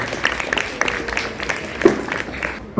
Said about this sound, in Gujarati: ફરી જોરદાર તાળીઓથી આપણે એમને આભાર માનીએ